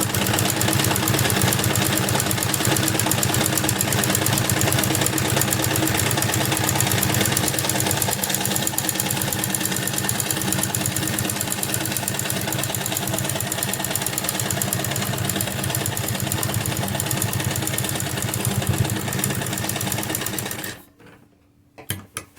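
A sewing machine stitching fabric for a salwar hem design, running as a fast, steady mechanical rattle for about twenty seconds, then stopping abruptly with a couple of brief clicks after it.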